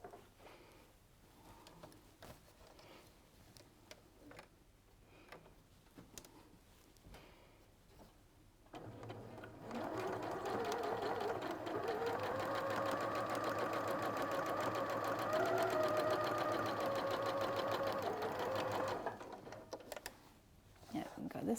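A sewing machine stitching quilt pieces runs in one steady, fast mechanical whir for about ten seconds, starting after a stretch of talk and quieter handling sounds.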